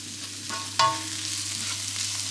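A utensil stirs softened onions, garlic and chilli in a hot pan, one quick scrape and knock over a steady low sizzle.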